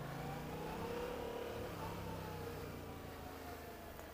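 Yamaha MT-07 motorcycle engine heard while riding, a steady mid-pitched drone under continuous wind and road rush, with a slight rise in revs early on.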